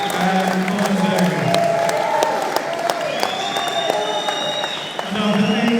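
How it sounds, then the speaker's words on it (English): A boxing crowd at The Olympia, Liverpool applauds the fighters before the decision: sustained clapping and cheering with whoops, loud and dense, with voices running through it. "Once again, ladies and gentlemen, before we render the decision, a round of applause."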